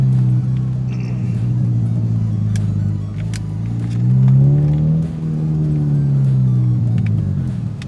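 Modified road car steered with a Nintendo Wii wheel, driving and turning into a parking space; a steady engine rumble and whir rises and falls as it revs, close and continuous with no talk.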